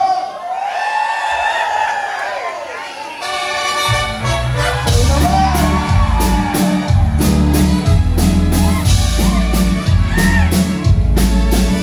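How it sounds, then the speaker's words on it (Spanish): At a live grupera concert at Los Globos, a crowd shouts and cheers loudly over the amplified band. A voice rises above the noise at the start. "¡Que se escuche ese grito!"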